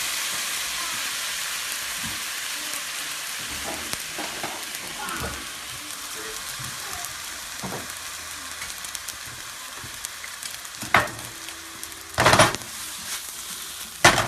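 Steady frying sizzle of breadcrumbs and pasta in a hot pan, a continuous crackling hiss with a few utensil clanks and scrapes near the end.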